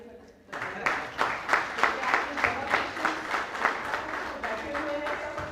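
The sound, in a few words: applause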